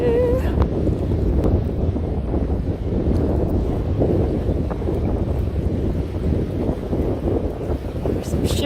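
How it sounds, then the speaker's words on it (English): Strong wind buffeting the microphone in a constant low roar on Harbor Beach Pier, Michigan, with faint water sounds beneath and no clear talking. "it's windy"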